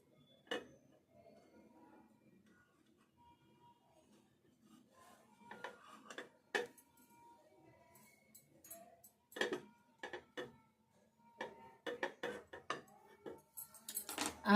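A knife cuts a piece and a half of fish into pieces on a board in a home kitchen, giving quiet, irregular taps and scrapes spaced out over a hushed background.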